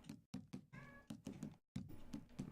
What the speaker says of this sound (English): I don't know if you hear my cat.